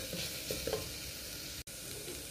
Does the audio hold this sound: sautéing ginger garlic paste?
yes